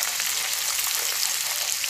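Thinly sliced onions frying in hot oil for masala rice give off a steady, dense sizzle that stays close and even throughout, with no voices.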